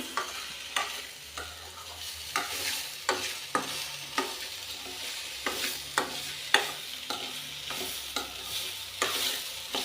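Jonna snacks are tossed by hand with chili powder, giving soft repeated crunchy rustles and shuffles at a steady rhythm. The sound is close but quiet, with no voices.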